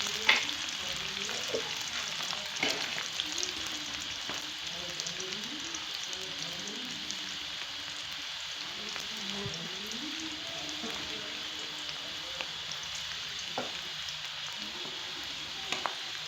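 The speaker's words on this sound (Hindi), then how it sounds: "प्याज को गोल्डन होने तक हम फ्राई करेंगे।" Onions frying in a pan toward golden for moong dal tadka, a steady, hissing sizzle like light rain that holds evenly throughout, with occasional soft stirring scrapes and faint taps.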